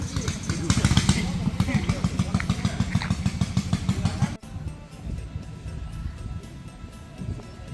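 Rapid, rhythmic boat engine throbbing on a river in Thailand, with a pulsing low drone, loud at first and then quieter and more distant after an abrupt change partway through.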